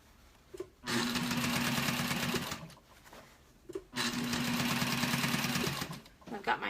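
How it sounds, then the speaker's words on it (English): Two bursts of close, rapid stitching from a sewing machine sewing fabric for a slouch hat, each running about two seconds with short quiet pauses between and after. "I'm just sewing along, trying to keep it as flat"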